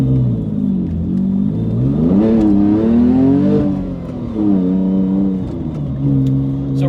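A 2005 Porsche Boxster with a 4.3-liter engine accelerates hard, its engine note rising and dipping in pitch as the tires spin and traction control cuts in, loud and close with no talk.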